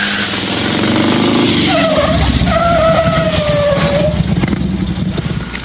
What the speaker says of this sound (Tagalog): Ipaparada ko muna motor ko sa tabi ng highway.